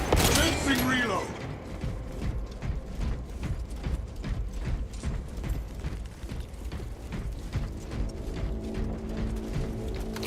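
Weapon reloading in a Warhammer 40,000 video game: a steady run of mechanical clicks and ratcheting clacks at an even rhythm, with a louder burst at the start and a busy game-action bed underneath.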